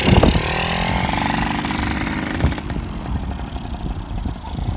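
A Kawasaki F7 175 dirt bike engine running, a rough, rapid two-stroke putter that holds a steady idle-like rhythm, close and loud, with a few rev changes and no talk.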